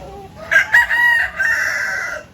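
A barred Plymouth Rock rooster crows loudly and close by, one long drawn-out cock-a-doodle-doo with a strained, rising start and a sustained ending.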